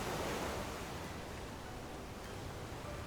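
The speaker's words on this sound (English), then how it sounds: "Why are the waves coming in one after another?" Ocean waves crashing in the video game Love & Deepspace, a steady broad wash of surf that stays loud and continuous, with no clear gaps between breakers.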